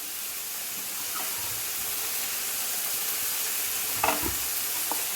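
Drumstick leaves, garlic, chillies, coriander and curry leaves are stirred in a pan for chutney over a steady, hissing sizzle, with a couple of soft spoon scrapes near the end.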